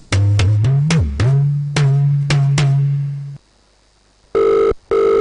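A telephone rings with a run of bright, bell-like strikes over a steady low drone, then falls silent before two short electronic tone bursts. The sound is close and loud, and no one speaks.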